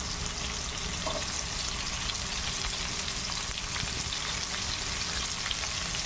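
Onion sautés with ginger in a pan, a soft, steady crackling sizzle heard fairly faintly and alone.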